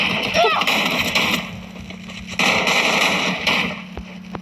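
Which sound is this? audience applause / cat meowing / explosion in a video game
explosion in a video game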